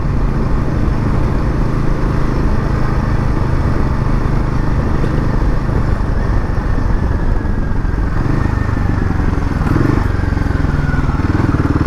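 Royal Enfield Himalayan 450 motorcycle engine running steadily while riding, a loud, continuous low drone with wind and road rumble mixed in, rising slightly near the end, with no talk over it.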